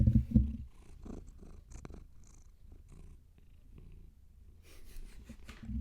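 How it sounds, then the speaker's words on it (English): A cat purrs close to a microphone, a soft low rhythmic rumble in repeated breaths that carries through the whole stretch, with a few light rustles and small knocks around it. "I wonder if they can hear your purring"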